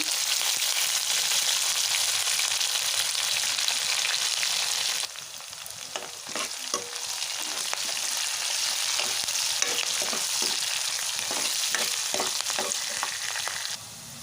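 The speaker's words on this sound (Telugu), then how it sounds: "ఇలా ఆయిల్లో ఆనియన్ కూడా మంచిగా ఫ్రై అయిన తర్వాత" Onion and curry leaves fry in hot oil with a loud, bright sizzle. Midway the sound drops briefly, then goes on crackling with repeated stirring scrapes and taps.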